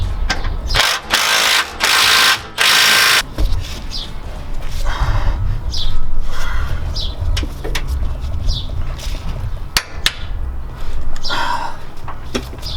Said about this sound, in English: So we're gonna torque it to the same 100 foot-pounds of torque